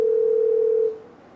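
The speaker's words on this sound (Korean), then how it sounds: "전화를 한번 걸어보죠." A telephone ringback tone sounds while a call is being placed, a single steady, loud, pure tone held for about a second before cutting off, with faint room noise after.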